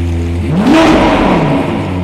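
A Lamborghini Aventador LP720-4 Roadster engine idles, then revs up in one quick rising surge and drops back to a low, steady rumble, heard loud and close.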